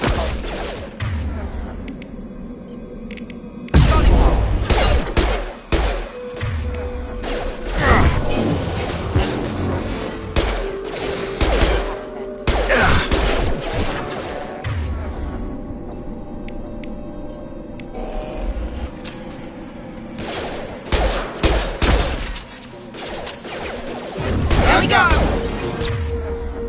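Gunfire rattles through a Mass Effect 2 battle in bursts and rapid volleys, mixed with game effects and occasional voices.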